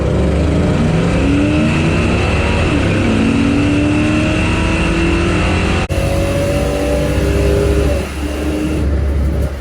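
A 2018 Mercedes C63 with a 503-horsepower twin-turbo V8 and a junkyard car with a 318 engine drag race, loud engines revving and accelerating hard with rising, layered engine notes.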